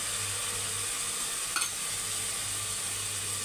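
Onions frying in a pan hiss with a steady, close sizzle as chili spice goes in, with one brief stir-like rustle partway through.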